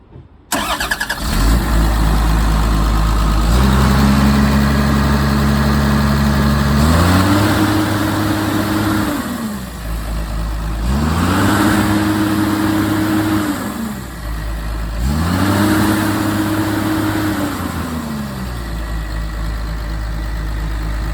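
A Komatsu PC200LC-8 excavator's 6-cylinder SAA6D107E diesel engine cranks and fires, settles into a loud, close idle, then revs up and down three times in a steady rise-and-fall pattern.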